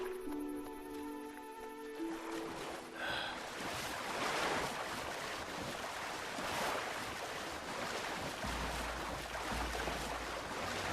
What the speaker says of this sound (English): Throw myself into the ocean.